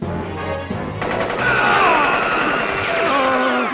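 Anime gunfire in Hunter x Hunter, a loud rattling barrage of bullets layered with dramatic music and sound effects, with grunts and gasps mixed in.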